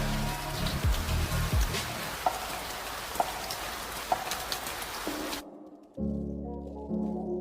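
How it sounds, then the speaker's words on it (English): Heavy pouring rain drums steadily on the ground in a film scene, a dense hiss with a few sharper splashes, then cuts abruptly to a quieter interior with a low hum. "the pouring rain soaked her through."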